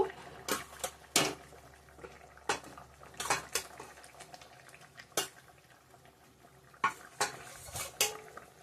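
Eggs are added to a Bengali egg curry and stirred in a pan, making scattered clinks and scrapes of a utensil on metal over a faint bubbling, all at low volume.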